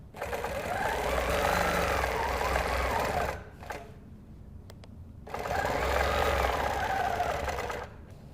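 A Q'nique sewing machine quilting with a hopping foot guided along a 3x8 ruler, running in two sustained bursts of fast mechanical whirring and stitching separated by a pause with light handling clicks.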